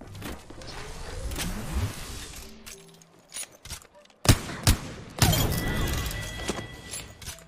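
Gunfire in the battle royale shooter Apex Legends, heard as a few sharp, loud shots and bursts in the second half of the clip, following a stretch of quieter in-game ambience and movement sounds.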